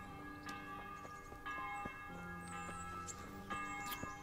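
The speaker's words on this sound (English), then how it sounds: "Here's that bell ringing always at the tower" A church tower bell in Kingdom Come: Deliverance rings out in a medieval town, with several steady resonant strikes about once a second, each leaving a long humming overtone over a faint background ambience.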